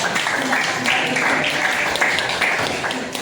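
A classroom gives a teacher a round of applause, a sustained dense patter of clapping at steady volume across the whole stretch, with a few voices mixed in.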